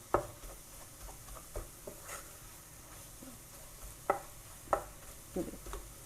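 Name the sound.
roasting flour in a pan for mushroom soup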